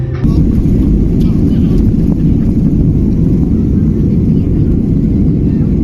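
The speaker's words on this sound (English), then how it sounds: "We're landing." A loud, steady low roar fills the cabin of a small propeller plane as it comes in to land, droning continuously without letting up.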